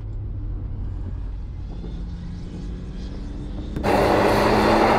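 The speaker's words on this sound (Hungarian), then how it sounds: "minél többet vagyunk itt, annál hangosabbnak hallom az autópályát" Highway traffic sounds as a low, steady, distant rumble near a race track, then jumps abruptly to a much louder, wide hiss near the end.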